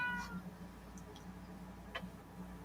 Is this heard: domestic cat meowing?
yes